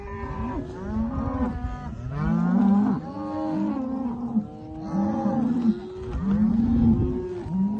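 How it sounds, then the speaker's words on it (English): A herd of cattle being gathered in Colorado moos loudly and almost without pause, with long overlapping low calls from several animals near and farther off. "This is what it sounds like when you're gathering cattle in Colorado."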